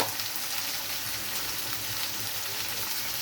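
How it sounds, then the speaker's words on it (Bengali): Small chopped beans frying in oil with a little salt, a dense, even, steady sizzle close by and continuous throughout, no voices or other sounds. "শিমগুলো আমি ভেজে নেব"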